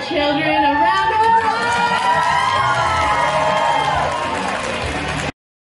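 A cosplay show audience at an anime convention makes noise for the children on stage, with crowd cheering and high excited shouts and whoops that swell into a loud, sustained roar, while a voice speaks over it.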